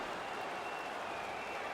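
Crowd cheering and applause from the arena audience in the NHL 19 hockey video game after a big open-ice hit, a steady broad roar that holds at an even level throughout.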